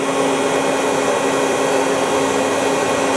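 A Citizen M-20III Swiss-type CNC lathe runs its back spindle at 3,000 RPM, giving off a steady, fairly loud broadband whir with a constant tonal hum that holds unchanged the whole time, with no talk.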